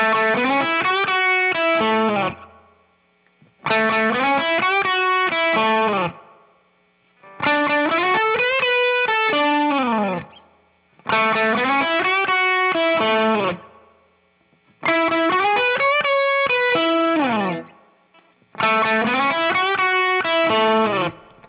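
A heavily distorted electric guitar plays a chugging, repeating riff in six loud phrases separated by brief pauses, with no voices.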